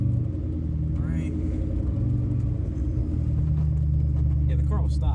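The engine of a Cobra car rumbles low and steady as it drives, a deep continuous growl with faint voices and light rattles riding above it.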